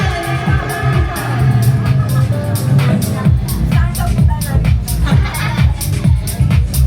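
A family crowd at a New Year party shouts and cheers together, a dense, loud roar of mixed voices sustained throughout with rhythmic bursts and no single speaker standing out.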